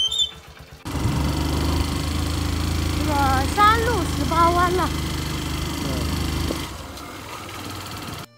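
A motorcycle ridden along a concrete mountain road gives a steady, close engine drone for several seconds, with people talking over it, before it cuts off.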